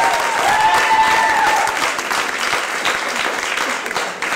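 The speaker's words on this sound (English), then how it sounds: "and now you clap." A comedy club audience in New York claps and cheers after a stand-up's punchline, a brief whoop riding over dense applause that gradually thins out.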